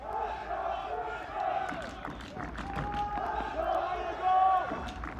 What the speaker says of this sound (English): Crowd is into it early as the Panthers have an early corner.